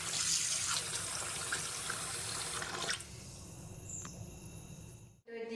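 Tap water runs loudly into a sink while mackerel is washed, then it is cut off and followed by quieter kitchen clatter and faint drips.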